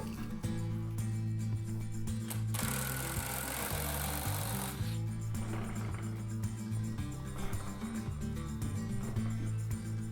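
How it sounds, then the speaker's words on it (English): The rear tire of a Husqvarna 701 Enduro LR motorcycle spins freely on a stand, making a steady close whirring drone with a louder hissing rush partway through. No one speaks. "spin the rear tire, and make sure there's absolutely no drag with the rear brake"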